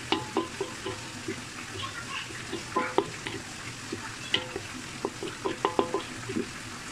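Spoon stirring eggplant and mushroom masala as it fries in a pan, with soft sizzling and a series of close scraping and tapping strokes against the pan, irregular and moderately loud.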